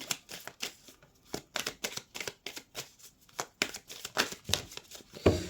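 Oracle cards from a Magic and Medium deck are shuffled by hand in quick, rhythmic riffling bursts, close and steady, with no voices.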